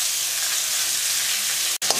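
Chopped tomato frying in a garlic and green chili tempering gives a loud, steady, close sizzle, broken once by a brief silent dropout near the end.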